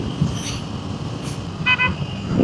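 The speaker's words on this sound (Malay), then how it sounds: "Dia punya horn tetet." A motorcycle horn gives one short, bright toot amid wind rush and road traffic noise, heard from a riding motorcyclist's position.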